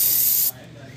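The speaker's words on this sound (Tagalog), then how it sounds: "ini-spray ni Pastor ng brake cleaner" Brake cleaner sprays in a sharp, loud aerosol hiss onto carbon-fouled engine parts of a Montero Sport in an auto repair shop, then cuts off abruptly halfway through.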